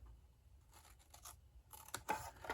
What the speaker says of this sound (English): You want to miter that tab and cut it straight down.